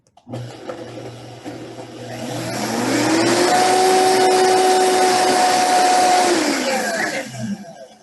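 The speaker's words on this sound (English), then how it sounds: "blend this up. Make sure that you have a blender that's not too wide at the base." A blender whirs through a garlic sauce, a steady motor drone that ramps up in pitch, holds a loud sustained whine for several seconds, then winds down, with no talking over it.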